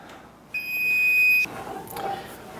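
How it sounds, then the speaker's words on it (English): A kitchen oven timer beeps in one steady, loud, high-pitched electronic tone lasting about a second, then cuts off, leaving quiet room sound and faint movement. "Timer's about ready to go off."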